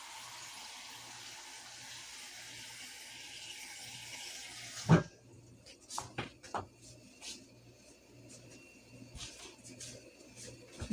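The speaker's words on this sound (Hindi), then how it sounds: "बस 1 बाउल और भर के पानी डाल दिया।" Water streams steadily into a cooking pot of dal palak for several seconds, then stops with a knock, followed by scattered clinks and handling noises.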